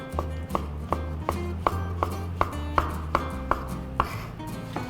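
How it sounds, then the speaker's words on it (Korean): A knife slices thinly through shiitake mushrooms on a cutting board, giving about a dozen crisp, evenly spaced chops in a steady rhythm, close and clear with no voices. "얇게 채 썰어주세요."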